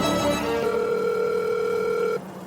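A steady telephone dial tone sounds while a call is being placed, a single continuous tone lasting about two seconds before cutting off abruptly, with no voices.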